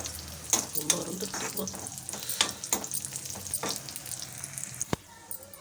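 Cashews and raisins frying in hot ghee, a soft sizzle with occasional stirring scrapes and light clinks of a spoon against the pan.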